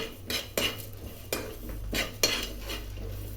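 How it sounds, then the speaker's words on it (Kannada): A metal spoon scrapes and clinks against a pan in a series of sharp strokes as black pepper, cinnamon and cloves are stirred and fried, with a low steady hum underneath. "ಇದಿಷ್ಟು ಹಾಕಿಬಿಟ್ಟು ಸ್ಲಿಮ್ಮಲ್ಲಿ ಚೆನ್ನಾಗಿ ಫ್ರೈ ಮಾಡೋಣ"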